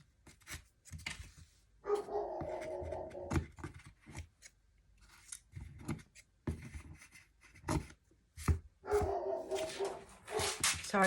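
Sarge the dog barks close by in two bursts of repeated yaps, early and near the end, amid quiet snipping and handling noises.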